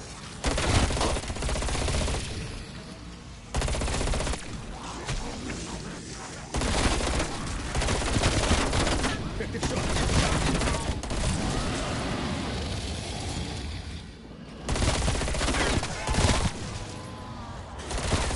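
Video-game gunfire in an outbreak zombie mode: bursts of rapid automatic shots come in loud clusters separated by brief pauses, with heavy booming impacts, close and dominating the mix.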